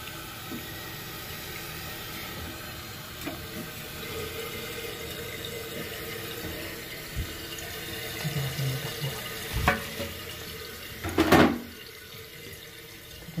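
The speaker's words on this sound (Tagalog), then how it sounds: "Ngayon kikita niyo yung tubig na malakas." Water rushing strongly through a repaired toilet fill valve, a continuous hissing flow with a few sharp knocks and splashy bursts near the end, heard close up.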